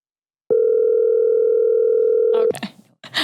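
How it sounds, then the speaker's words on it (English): A single steady telephone tone sounds during an outgoing call, holding loud and unbroken for about two seconds before cutting off, followed by brief muffled voices. "We should be able to hear some ringing."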